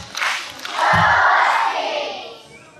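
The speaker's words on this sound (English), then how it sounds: "I think that deserves a big Husky cheer for her incredible work." An elementary school crowd gives a cheer, a short burst of many voices shouting together that rises quickly, holds for about a second and a half, then fades.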